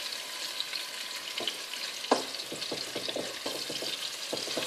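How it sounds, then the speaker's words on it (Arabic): Chicken meat fries in hot oil for a savory pastilla filling, a steady close sizzle with crackling pops and occasional stirring scrapes, no voices. "دابا كون جينا اللحم ودرناه مباشرة هكا في الزيت"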